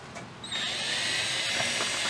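A power drill whirs up after a short pause and keeps running at a steady high pitch, close and loud, as it bores a pilot hole into a 2008-2017 Dodge Challenger rear diffuser.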